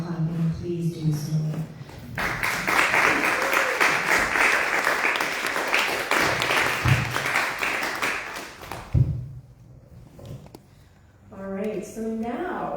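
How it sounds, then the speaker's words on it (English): Church service audience clapping in appreciation of the band, a loud sustained burst of applause lasting several seconds between brief stretches of speech before and after. "if you would like to express your appreciation for the band by clapping, please do so"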